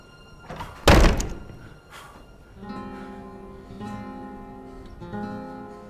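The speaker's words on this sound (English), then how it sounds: "Close that door!" Wooden door in an Old West setting slammed shut with one loud, heavy thunk near the start, followed by a sustained music-like tonal backdrop.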